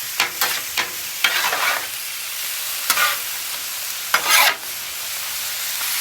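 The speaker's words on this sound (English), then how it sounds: "Just making traditional taco meat." Taco meat frying and being stirred on a Blackstone flat-top griddle, with a steady close sizzle broken by several sharp scraping bursts of a spatula working the meat.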